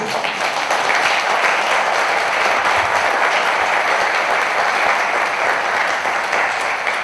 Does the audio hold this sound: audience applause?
yes